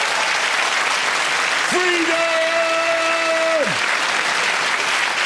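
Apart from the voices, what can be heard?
comedy audience round of applause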